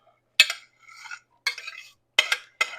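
A metal spoon clangs and scrapes against a pot while stirring diced tomatoes and rice for Texas hash, five bright, close strikes spaced about half a second apart with silence between them and no talking.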